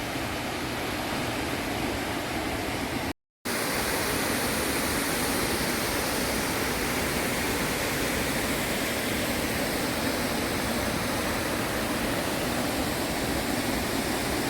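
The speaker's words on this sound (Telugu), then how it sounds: "అద్భుతంగా ఉంది వాటర్ ఫాల్స్ చక్కగా" Mallalli Falls roars in continuous broadband rush, a loud, steady wash of falling water heard close with no talk, interrupted only by a short gap early on.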